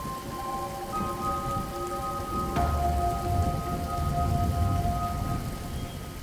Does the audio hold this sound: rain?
yes